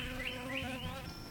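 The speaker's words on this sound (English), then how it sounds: "that little bee came and had a bit of honey" A bee buzzes close by in a garden, a steady tonal drone that wavers slightly in pitch as it hovers, with no voices over it.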